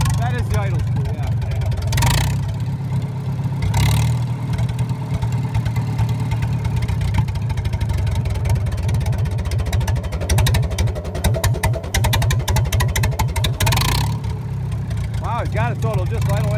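A Super M engine idles after its idle screw is adjusted, a close, steady low chugging with brief surges, while people talk over it throughout.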